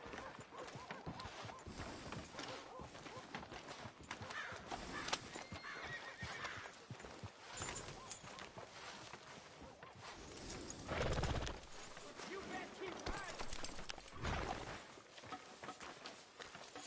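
A horse whinnies and its hooves clip-clop in a PS4 video game, the neighing loud and repeated over a continuous bed of hoofbeats and ambient noise, with no talking.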